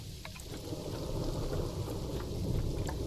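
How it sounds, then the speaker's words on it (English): Rain pours steadily with a low rumble of thunder in a zoo-building video game, a constant moderate wash of sound with no talking. "Oh, it's raining."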